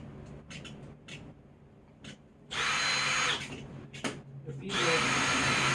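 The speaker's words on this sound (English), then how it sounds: "I'm going to drill ahead a little bit" A power drill pre-drilling into wood during a small hut build, with two loud whirring bursts of about a second each over quieter background rustling.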